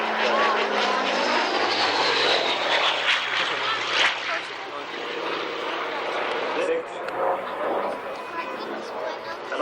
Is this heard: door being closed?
no